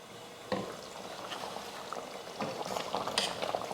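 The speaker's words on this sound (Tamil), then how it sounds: "ஒரு 10 நிமிஷத்துக்கு கொதிக்கட்டும்." Chicken kulambu simmers at a steady boil in a covered pot, bubbling and crackling continuously, with a few sharper pops and knocks rising above the low, constant sound.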